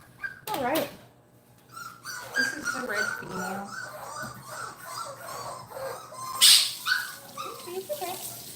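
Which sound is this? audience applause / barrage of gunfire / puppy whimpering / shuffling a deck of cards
puppy whimpering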